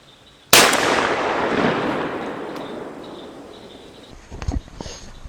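Mossberg 930 shotgun with a standard full choke firing a 3-inch Federal 15-pellet buckshot load, one loud sharp blast that rolls off in a long echoing tail, followed by a few faint clicks and handling sounds.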